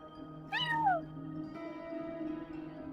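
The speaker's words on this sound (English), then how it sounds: "No one except for a cat watching over the front desk." A cat watching over a front desk in Genshin Impact lets out a single clear, falling meow, followed by quiet background game music.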